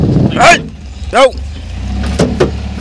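Car travelling along a road, a steady low engine and road rumble running throughout with a few brief louder swells; voices and passing sounds are heard intermittently over it.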